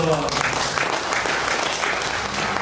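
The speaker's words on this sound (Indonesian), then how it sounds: "Tepuk tangannya dong." Audience clapping at a workshop event, dense and loud throughout the short stretch, with a voice faintly mixed in beneath the applause.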